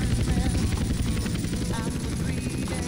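Steady whirring helicopter rotor and engine drone from GTA San Andreas, loud and continuous as the aircraft is brought down to land, with no talking.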